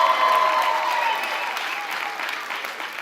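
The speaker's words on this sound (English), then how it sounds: "Let's give him a round of applause." Crowd at the AIDS Walk New York kickoff event applauds steadily in a brief, dense burst of clapping that gradually fades, with faint voices mixed in.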